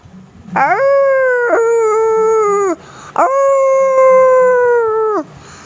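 Two long, loud wolf-like howls imitated by a voice, each rising then sliding down, with a short break between them.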